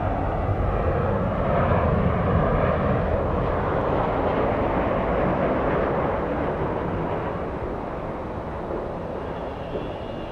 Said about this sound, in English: All right, it's going to be exiting the runway. Look how slow it's going.